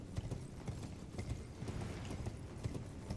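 The spectral steed Torrent gallops in Elden Ring, a rapid rhythmic clip-clop of hooves pounding at a steady pace, fairly close and continuous, with no talking over it.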